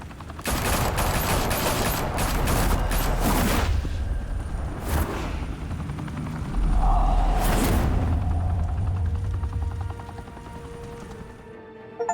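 A gunfire volley in a Batman Telltale game scene crackles as dense bursts of rapid shots, pausing and resuming in loud clusters, then trailing off into a low rumble at the end.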